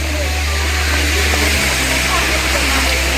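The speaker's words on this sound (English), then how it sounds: "And then there's the falls again." Honey Run Falls in Ohio, a waterfall pouring over rocks, gives a steady, loud broadband rush of falling water that fills the whole clip with no break.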